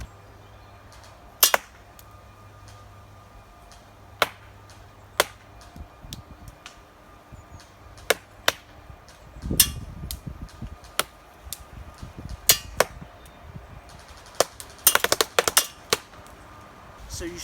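An airsoft rifle fires 0.2 g BBs at a target about 30 meters away outdoors, giving sharp isolated snaps spaced irregularly, then a quick cluster near the end, with faint low rumble between shots.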